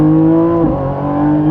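A Lamborghini Revuelto in Strada mode accelerates from inside the car, its loud, strong engine tone climbing steadily with a brief pitch dip as a gear changes midway.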